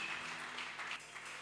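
A church congregation claps in a soft, even patter of applause, heard faintly and from a distance with no voices over it.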